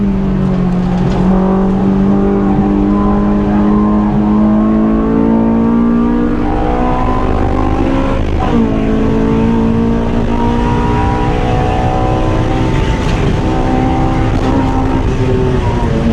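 Honda S2000 AP2 track car engine heard from inside the cabin on a racetrack, a loud, steady high-revving drone that climbs through the gears with a brief dip at a shift.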